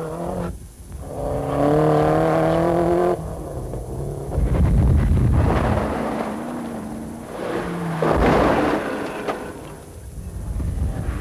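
A Toyota rally car engine at the 1992 Qatar International Rally roars and revs through gear changes, loud and near, with rising and falling pitch as it accelerates past.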